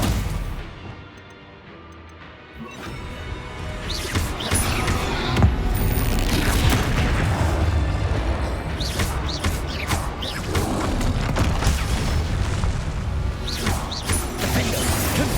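Spell blasts from Bombarda and Confringo in Hogwarts Legacy on PS5: a dense stream of crashing impacts, thuds and bursts. They hit repeatedly over clattering game effects, loud and close throughout.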